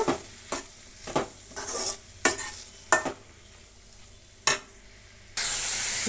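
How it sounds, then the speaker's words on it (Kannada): Three finely chopped tomatoes fry in a pan of garlic while a spoon stirs in sharp, separate scrapes that land about every half second, over a soft sizzle that swells into a loud, bright hiss at the end. "ಸಣ್ಣದಾಗಿ ಹಚ್ಚಿಟ್ಕೊಂಡಂತಹ ಮೂರು ಟೊಮೆಟೊನ ಇದ್ದೀನಿ ಇದು ಕೂಡ ಸ್ವಲ್ಪ ಫ್ರೈ ಆಗಬೇಕು"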